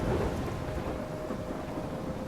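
Thunderstorm with steady heavy rain and rumbling thunder in the Life is Strange video game, a dense continuous roar at moderate level with no speech.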